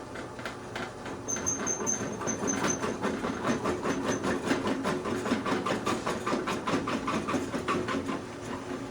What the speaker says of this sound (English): Right now we are drilling a 9/16 hole in there first